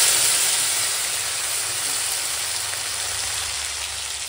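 Cut potatoes frying in mustard oil, already used for frying fish, with slit green chillies and nigella seeds: a steady, bright hiss of sizzling oil that holds throughout and eases slightly toward the end.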